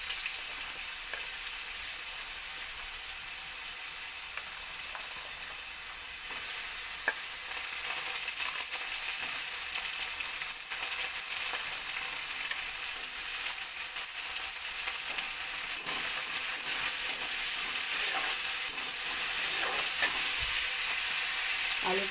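Sliced potato strips fry in hot oil in a pan for homemade chow mein, giving a steady loud sizzle with occasional stirring scrapes, no talk.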